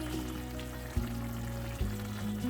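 Butter melts in a pan for a tomato beef soup with a steady, close sizzle and two soft bumps of the pan, and no voices.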